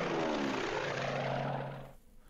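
Propeller aircraft engine drone from the Strategic Command WW2 strategy game, a loud steady hum that sweeps past and cuts off abruptly near the end.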